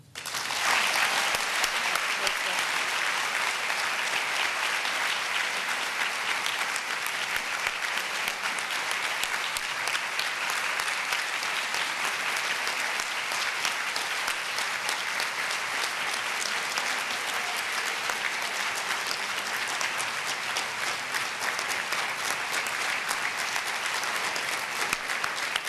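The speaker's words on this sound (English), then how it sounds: "We honor and applaud you." Sustained, dense applause from a large audience at an awards ceremony honoring women of courage, holding steady and loud for the full length without pause.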